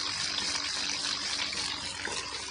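Two electric water pump motors running on a farm drip irrigation setup, with water gushing out in a dense, steady rushing noise that stays loud and even throughout.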